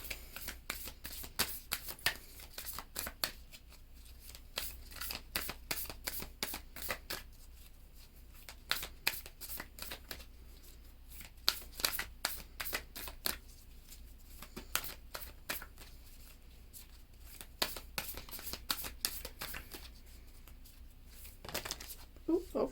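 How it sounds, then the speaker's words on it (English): Moonology oracle cards are shuffled continuously by hand, with soft rapid riffles and crisp flicks repeating up close under low background sound. "let's pull one of our Moonology oracles as well"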